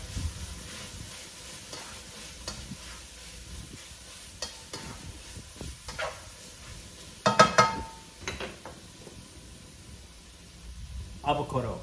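Mushrooms and TVP fry in avocado oil, a soft steady sizzle broken by scraping stirs and louder clatters of a utensil in the pan, with a voice talking over it.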